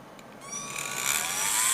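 Orbitool deburring cutter in a cordless grinder working intersecting holes in metal, giving a high, rising whine that grows steadily louder over a couple of seconds, close and alone.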